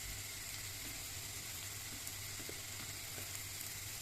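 Chard and chicken sizzle softly in a pan while being stirred, a faint, even frying crackle with occasional light scrapes throughout.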